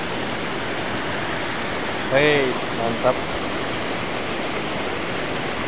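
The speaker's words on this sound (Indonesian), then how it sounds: "Air terjun" Constant broadband rushing of a waterfall on the Ci Seke River fills the background, steady and full, with a brief spoken exclamation cutting in partway through.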